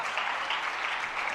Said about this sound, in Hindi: जरा एक बार जोरदार तालियां इन सभी के लिए